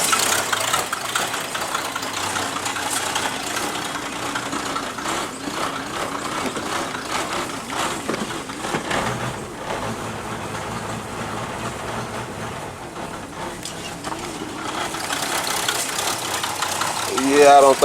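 A 1966 Ford Mustang engine that has been sitting, running with a steady rough rumble throughout, with voices talking over it.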